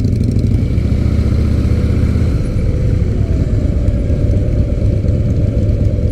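A Harley-Davidson Sportster motorcycle engine runs steadily and loud throughout, with a deep low rumble and lumpy V-twin pulsing that thins slightly after the first couple of seconds, with no talking.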